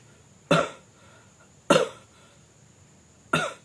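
Three loud, deep coughs, evenly spaced and close, each a sharp burst that fades quickly, with quiet between them; a voice imitating a cough.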